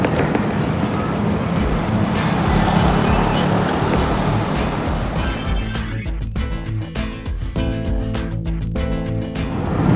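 An ECGO 5 electric motorcycle accelerating along a road near Ancol makes a steady rush of wind and road noise with a faint motor hum. Sharp ticks and clicks grow more frequent in the later half.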